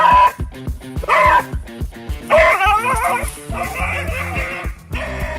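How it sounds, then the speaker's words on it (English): A dog confronting a massive iguana barks, yips and whimpers close up, in loud, rapid, repeated bursts that carry on almost without a break. "This dog's bark is definitely worse than its bite, as it retreats like a coward after messing with a massive iguana."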